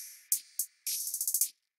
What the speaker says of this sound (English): from there, I added in the hats